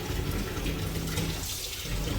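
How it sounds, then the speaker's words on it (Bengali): Jute leaf greens being washed in water, a steady close splashing and running-water wash with no voices. "যে শাক অনেকবার ধুতে হয়।"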